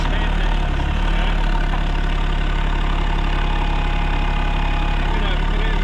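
An RK24 backhoe engine idles nearby with a loud, steady low rumble and continuous mechanical drone, unbroken across the whole stretch.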